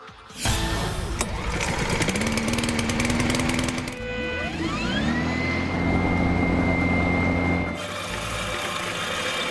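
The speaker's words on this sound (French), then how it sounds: "on coupe l'herbe longue pour trouver la tondeuse idéale" A lawn mower engine drones loudly and steadily while cutting long grass, its pitch rising and shifting as the motor revs, then settling back to a rough, continuous roar.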